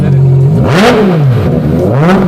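A Ferrari engine with a carbon-fiber composite body revs up and down through two loud, swelling pulls that dip low between them, close by and alone.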